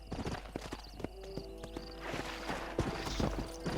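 A horse's hooves clip-clop in the Western game Red Dead Redemption near Fort Mercer, with quick irregular hoofbeats, a brief whinny, and tonal game music underneath.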